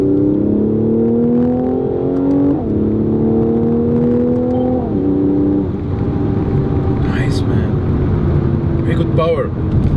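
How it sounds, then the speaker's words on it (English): The V6 of a 2018 Mercedes-AMG C43 Coupe 4MATIC drones loud and close, its pitch stepping up in repeated rises while someone talks over it. "there's a lot of noise from that V6"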